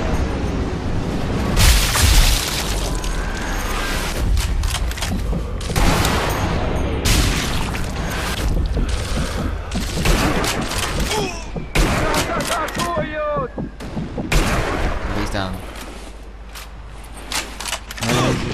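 Sniper and small-arms fire in the video game Sniper Elite V2: rapid clustered shots and booming impacts, loud and close, fading somewhat toward the end, with brief voice fragments between the reports.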